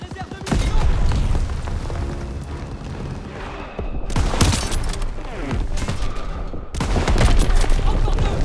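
Heavy gunfire and explosions rage in a World War II battle from Call of Duty WWII, with dense volleys and booms filling the whole stretch, dipping briefly twice before surging back loud.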